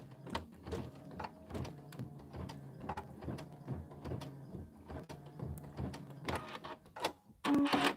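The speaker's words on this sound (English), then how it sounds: "I'm going to hold this and let it stitch the rest of it." A domestic sewing machine stitching slowly through fabric on a Kimberbell home-sewn tiling project, a steady mechanical chatter of repeated needle strokes with brief pauses, close and fairly loud, ending in a short burst of louder rattling.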